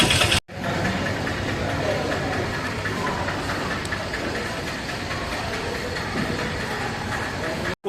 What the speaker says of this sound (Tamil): செங்கோட்டையில் இருந்து சென்னை எக்மோர் வரைக்கும் போகக்கூடிய பொதிகை எக்ஸ்பிரஸ் தான் எம்டி ரேக் வந்துட்டு இருக்கு